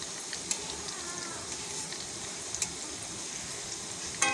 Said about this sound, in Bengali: দেখুন কী সুন্দর ভাজা হয়ে যাচ্ছে